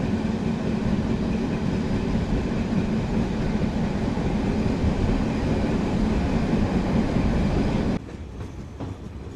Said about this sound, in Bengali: এখন আমাদের ট্রেন এন্ট্রি করছে কাশিয়ানি জংশন।